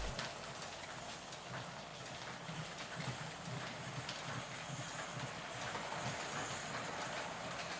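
A 00 gauge live steam Lord Nelson class model locomotive runs at varying speeds, giving a steady rattling, chuffing rhythm with a continuous hiss, heard close and alone for the whole stretch.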